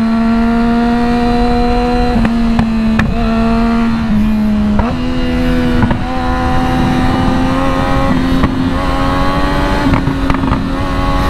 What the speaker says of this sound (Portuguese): É estranho andar na moto assim, que não sobe muito o giro.